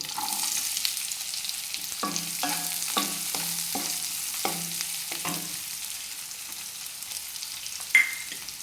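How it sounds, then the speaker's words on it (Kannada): Slit green chilies and finely chopped onion fry in hot oil, a faint, steady sizzle running under a run of spoon taps and scrapes on the pan, then a single sharp clink near the end. "ಹಾಗೆ ಹಸಿಮೆಣಸು, ಸೀಳಿದ ಹಸಿಮೆಣಸು ಸ್ವಲ್ಪ ಫ್ರೈ ಮಾಡ್ತೇನೆ."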